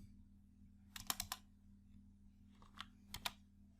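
Typing on a computer keyboard while building an Excel formula: two short clusters of quick, close key clicks over a low steady hum, with no talking.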